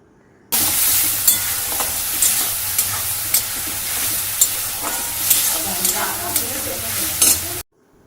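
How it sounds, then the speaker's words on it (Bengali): Chicken and potato curry is stirred continuously in a pan after a spice mixture is added, producing steady sizzling and frying hiss punctuated by regular scraping strokes of the spoon, close and clear with no talking. "এবার আমি অনর্বত নাড়তে থাকবো"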